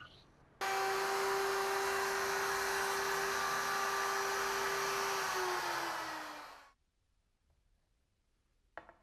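A router cuts a rabbet along a wooden panel for a reception desk, starting abruptly with a loud, high whine that holds steady for about six seconds before spinning down and falling silent.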